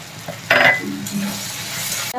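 Garlic, ginger paste and slit green chillies fry in a pan for shukto, with a steady low sizzle and a sharp scrape and clink of a spoon against the metal near the start.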